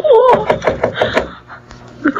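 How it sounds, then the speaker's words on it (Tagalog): Someone knocks on a door in a run of evenly spaced raps, close and fairly loud, while a voice speaks briefly over the first knocks. "May kumakatok. Sino kaya to?"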